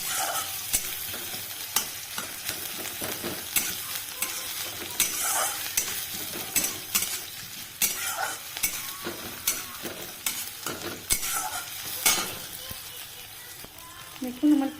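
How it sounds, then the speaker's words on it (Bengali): Chopped onion fries and sizzles in a pan with garlic that has already browned, with steady crackling and frequent scraping stirs throughout, loud and close, with no voices. "এবারে আমি কুচিয়ে রাখা পেঁয়াজটাও দিয়ে দেব, দিয়ে এটা হালকা ফ্রাই করে নেব।"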